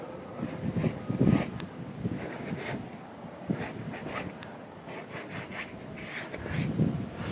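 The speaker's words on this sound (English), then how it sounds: "the wind is blowing like crazy" Strong gusty wind buffets the microphone outdoors at a marina at sunrise, rumbling and rushing in uneven surges, with no voices.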